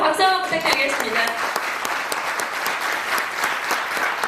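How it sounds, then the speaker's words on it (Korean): An audience at a book talk and publishing celebration in Seoul claps warmly, a brief voice at the start giving way to sustained, even applause that fills the room. "여러분 박수 한번 부탁드리겠습니다."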